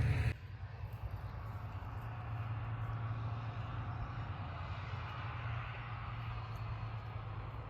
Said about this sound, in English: the tractor's coming this way.